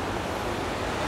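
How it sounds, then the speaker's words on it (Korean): Mountain stream water rushing past a cabin in the countryside, a loud, continuous broadband wash with no pauses and no speech. "지금 계곡물이 찰찰찰찰찰찰 흘러내립니다"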